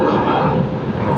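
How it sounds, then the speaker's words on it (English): Steady, loud broadband roar of a Jetstar airliner's engines at takeoff power from runway 16R at Sydney Airport, a dense continuous rumble with no pauses. "we've had an early rotation of Jetstar from runway"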